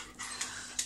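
A dog in a house gives short, faint breathy sounds, like soft panting or whimpering, in a brief quiet moment with two small bursts.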